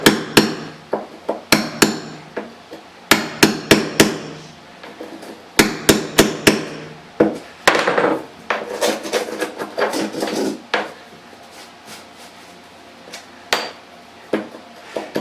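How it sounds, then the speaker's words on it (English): Sharp hammer blows on a chisel trimming the corner of ceramic tile laid in place, a series of irregular close taps and knocks with pauses, no talking. "take our chisel and just ever so slightly"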